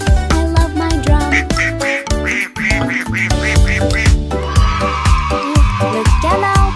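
Duck quacking in a French children's nursery rhyme, a run of loud rhythmic quacks layered over bouncy music with drums, then the tune carries on.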